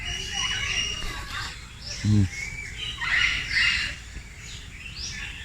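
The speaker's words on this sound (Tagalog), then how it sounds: "Ari pala ito ng mga parrot. King Parrot, Moluccan." King and Moluccan parrots at Avilon Zoo give repeated bright chirps and harsh squawks at moderate distance, mixed with a brief low sound like a voice.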